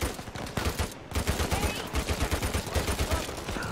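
Rapid automatic gunfire from the player's weapon in Uncharted 4, loud close bursts of evenly spaced shots rattling almost without pause.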